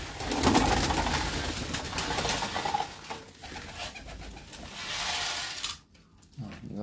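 Pigeons coo in repeated soft, low calls close by, mixed with scattered rustling and handling noises and a brief quieter pause near the end.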